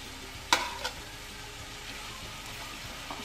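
Chicken and tomatoes being stirred in a frying pan for a Pakistani bhindi gosht curry, a steady low sizzle with a couple of sharp scraping clinks of the spoon early on and a faint knock near the end.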